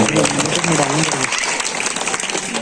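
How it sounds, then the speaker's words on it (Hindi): Audience applause at a local panchayat event honouring a woman official, a dense broadband clatter of many hands that starts over a man's speech and continues steadily for nearly three seconds. "जोरदार ताली बजाते हैं"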